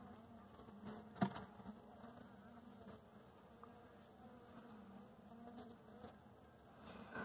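Honeybees buzzing over a frame just lifted from a queenright hive, a steady low hum of many insects close by with occasional louder passes near the listener.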